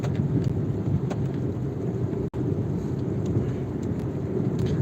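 Steady outdoor rain in monsoon weather, a dense continuous hiss and low rumble that fills the whole stretch, loud and close, with one brief dropout midway and no talking.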